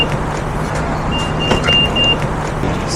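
A Mitsubishi car pulling up on a Bangkok street, a steady engine and road hum up close with a faint high whine partway through, no talk heard.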